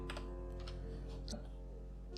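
Keyboard shortcut keys pressed on a computer keyboard in Photoshop, a few quick clicks and taps close by over a steady low hum.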